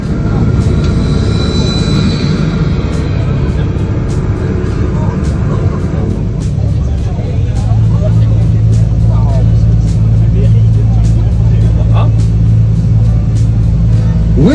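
An amphibious tour bus rolls into the water, its engine droning loudly while a voice talks over it; the engine note changes partway through, settling into a steady hum with clicks and sloshing as the bus floats.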